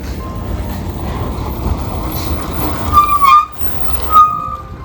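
An overnight bus rumbles along inside with a steady low engine drone and road noise, with a few louder knocks and rattles from the cabin partway through.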